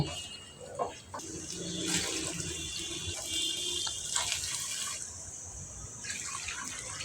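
Hot water poured from a vessel into a pot of chicken and pulao rice for chicken biryani, several gushing splashes in separate bursts, close and fairly quiet.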